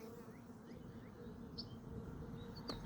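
Honey bees in a queenless 5-frame nuc hum with a steady, close buzz throughout, with faint chirps and a sharp tap near the end.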